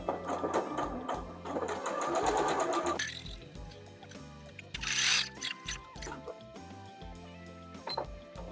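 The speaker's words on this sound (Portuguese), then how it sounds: "vamos começar a cozer." Domestic sewing machine stitching a seam on a fabric coin purse, a close mechanical whirr and rhythmic needle clatter that runs steadily and then slows and stops, with a few clicks and faint sounds of handling afterward.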